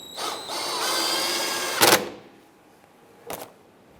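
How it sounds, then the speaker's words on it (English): A power tool drives in a 10mm bolt on the air box of a 2005-2010 Chrysler 300 with a high-pitched motor whine. Two short sharp ratcheting bursts follow, close up, with no talking. "install your 10mm bolt, and we'll snug that down"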